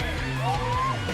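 A crowd of supporters at a CrossFit team competition screams and cheers, with whoops and a rising shrill yell over a dense, continuous roar of voices.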